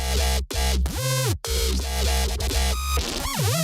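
A synth bass pitched up so far it barely reads as bass, running through bright, buzzy repeated phrases with short gaps and a sweeping pitch bend near the end, loud and alone.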